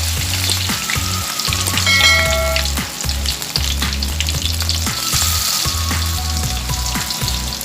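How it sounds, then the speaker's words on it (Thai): Battered enoki mushrooms deep-fry in hot oil over low heat, a steady close sizzle and crackle running throughout with a continuous low rumble and intermittent clinks from stirring. "ก็มาเริ่มทอดเห็ดเห็ดทองกันเลยครับ"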